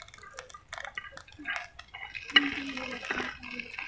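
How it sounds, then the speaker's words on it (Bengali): Lentil, potato and greens fritters being lifted one by one out of a frying pan: soft metallic scrapes and clinks of a spatula against the pan come in short bursts, with faint bubbling oil underneath. "এখন আমি এক এক করে নামিয়ে নিচ্ছি"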